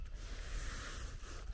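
Water trickles out of a full swale as it spills back toward a creek, a steady soft rushing hiss with no break.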